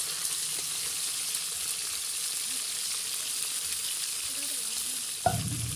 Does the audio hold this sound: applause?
no